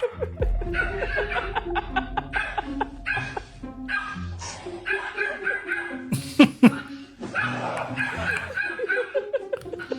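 A dog barks and yelps in reaction to its owner's prank, mixed with laughter and chuckling close by, busy and loud throughout with a sharp bang midway.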